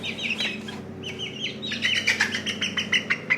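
Young chickens kept indoors chirp and peep in a busy overlapping chorus, several birds calling in quick bursts that grow denser toward the end, close and fairly soft.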